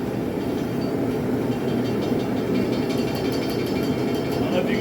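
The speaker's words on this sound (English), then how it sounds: "I can go to the grinder and do this real quick." A grinder works the edges of a still-hot forged railroad spike knife, giving a steady, continuous grinding roar that holds at an even level throughout.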